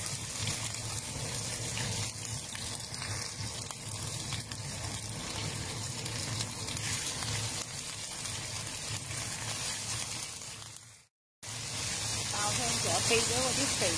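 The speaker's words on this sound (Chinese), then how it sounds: "輕輕輕輕逼一逼那些肥油出嚟" Fresh duck breast fries in a pan as its fat renders, giving a continuous sizzling hiss with a short break near the end.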